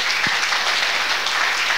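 Audience applause at a business award presentation for export program beneficiaries, a steady broadband clatter of many hands clapping throughout, fairly close and continuous with no speech over it.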